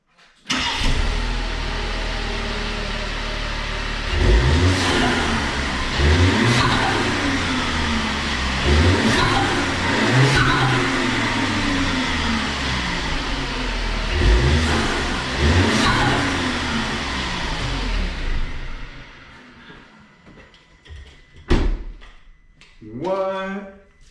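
A 2019 VW Tiguan fitted with a cold air intake, hood closed, revs loudly and repeatedly in rising and falling surges over a steady engine drone, then settles, and clicks and knocks follow near the end.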